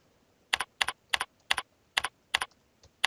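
Keys on a computer keyboard clatter in quick double-tap bursts, about seven clusters at a steady rhythm, close and crisp, as code is typed into a script debugger with no talking.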